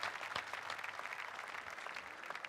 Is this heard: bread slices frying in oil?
no